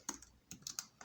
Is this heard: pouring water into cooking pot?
no